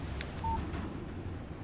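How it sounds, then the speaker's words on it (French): Short electronic text message alert tone from the Alan Wake video game, a single clean beep lasting about a fifth of a second over a low steady background hum. "Un SMS de Barry. Il te dit bonjour aussi"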